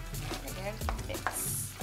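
Red kidney beans stirred into a prawn and squash curry in a pan, a brief scraping stir over a soft sizzle, fairly close and heard on its own.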